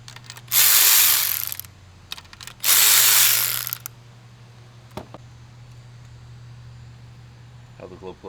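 A hand ratchet turning a 12mm deep 1/4-inch socket on the glow plugs of a 2014 VW Jetta TDI, two bursts of rapid close clicking followed by quiet workshop hum and a single tap.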